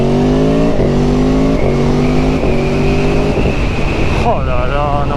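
A 2018 Aprilia Tuono V4 motorcycle under way, its engine and exhaust droning loud and close with stepped pitch changes through the gears over heavy wind rush, ending in a wavering rev.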